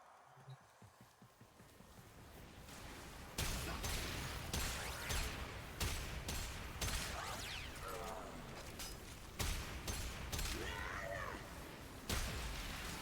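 Warframe video game weapon fire, loud sharp bursts of shots in an irregular rhythm, each with a brief metallic tail, against a steady background of game noise.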